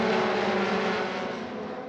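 Euroformula race cars on the opening lap at Mugello circuit in Italy give off a dense, roaring engine wash that is loud at first and then fades slightly as they pull away.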